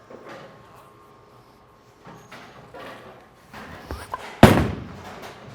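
A bowling ball rolls down the lane with a low rumble, then crashes into the pins with one sharp, loud clatter that decays quickly, amid faint background alley noise.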